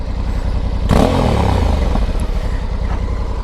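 A 2021 Honda Africa Twin motorcycle engine rumbles close by, a steady idle that swells into a louder rev and then settles back to a throbbing run.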